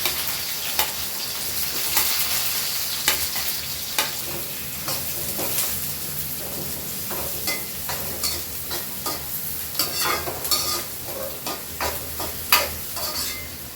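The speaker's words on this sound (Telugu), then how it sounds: "ఈ ఆనియన్స్ కొంచెం గోల్డెన్ కలర్లో వచ్చే వరకు వేయించుకున్నాం" Onions fry toward golden in a pan with cumin, mustard seeds and green chilies, sizzling continuously while a spoon scrapes and taps against the pan in an irregular rhythm.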